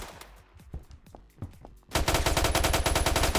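A ghost gun firing in Roblox Phantom Forces: scattered single shots at first, then a loud rapid automatic stream of evenly spaced shots that runs to the end.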